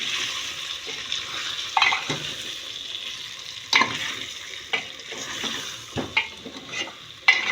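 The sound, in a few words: stirring spice masala in pan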